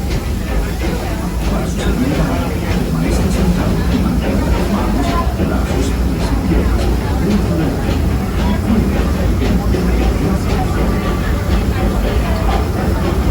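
A Disneyland ride train rumbles steadily along its rails with a constant low roar and rhythmic clatter, a voice faintly audible over it.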